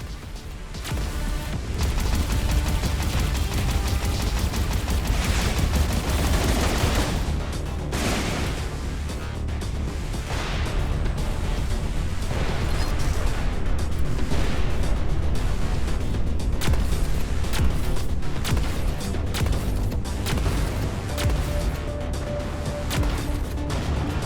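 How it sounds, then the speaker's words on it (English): Space-combat game Everspace 2 as torpedoes come in: dense, booming explosions and heavy impacts layered over a continuous rumbling soundtrack, loud throughout with repeated crashing bursts. "Torpedoes incoming."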